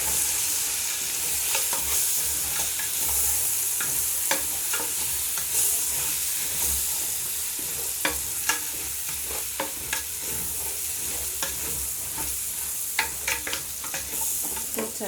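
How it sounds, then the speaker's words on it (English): Rice being stirred in a cooking pot for pilau with beef, a steady sizzle under repeated scraping and tapping strokes of the spoon, close and continuous, with no one talking. "You just put a bit and then you stir."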